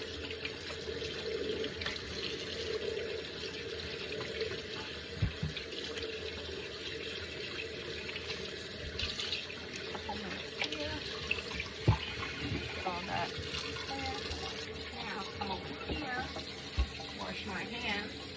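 A kitchen tap runs steadily, filling a bowl with water for soaking. The rushing water is continuous and fairly loud, with small splashes and clinks of handling mixed in.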